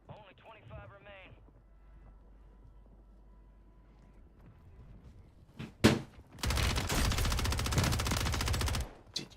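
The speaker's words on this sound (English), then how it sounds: "I'm shooting him in the head" Rapid automatic gunfire in Call of Duty: Warzone, a few sharp shots then a sustained loud burst lasting a few seconds, preceded by people talking at low level.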